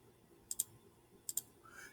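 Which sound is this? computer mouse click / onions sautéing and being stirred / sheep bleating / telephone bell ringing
computer mouse click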